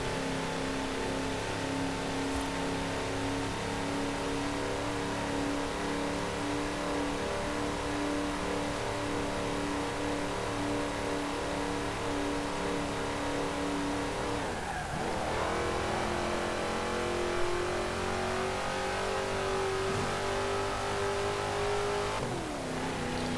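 A 1969 International Harvester Loadstar CO-1600 truck engine in Forza Horizon 4 drones and revs continuously, pitch climbing and dropping through gear changes, loud and close with no talking.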